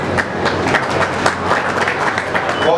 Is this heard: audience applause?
yes